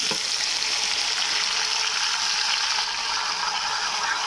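Tomato pieces for a spicy tomato pickle sizzling in a hot pan, a bright, dense, steady frying hiss that carries on without a break and with no voices.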